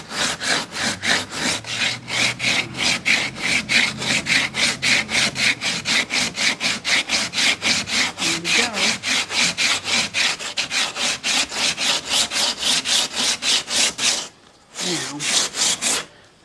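Rhythmic back-and-forth hand sanding on a repaired fiberglass hatch of a Catalina 25 sailboat, steady rasping strokes close by, continuing almost without pause before a brief break near the end.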